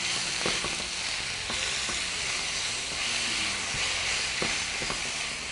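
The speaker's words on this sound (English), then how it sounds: "saute this." Spinach sautés in a hot pan, a loud continuous sizzle and hiss close by, with occasional clicks of stirring and no one talking.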